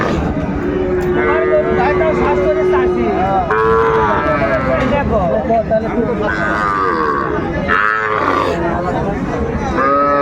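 Six-month-old bull calves moo loudly and close by at the Aftabganj cattle market, several drawn-out calls overlapping one after another, with no talking between them.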